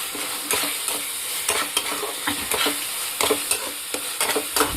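Onion paste masala being stir-fried in oil for a chicken curry, with a close, steady sizzle broken by repeated spoon scrapes and stirring strokes, no talking.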